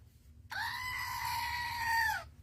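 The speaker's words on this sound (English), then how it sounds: "It's a screaming goat." A novelty screaming goat toy lets out a single sustained, nasal, high-pitched scream lasting nearly two seconds, loud and close over a quiet room, with nobody speaking.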